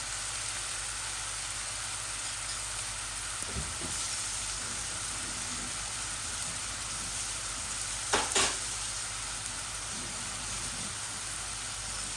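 Onions of two kinds frying in a pan as the base for a mustard fish curry, a soft continuous sizzle and hiss with a couple of brief clatters of a utensil partway through, no talking.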